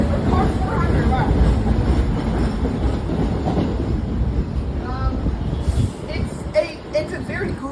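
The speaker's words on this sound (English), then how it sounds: "Here goes our train." A New York City subway train pulls into a station in the forgotten borough, a steady loud rumble with wheel clatter and squealing, while people talk over it nearby.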